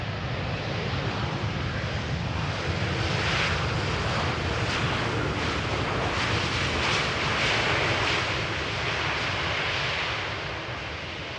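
An airliner landing on runway 18R at Amsterdam Schiphol, a continuous heavy engine roar with rushing air that stays loud and steady before easing slightly at the end. No one speaks.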